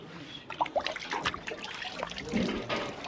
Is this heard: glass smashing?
no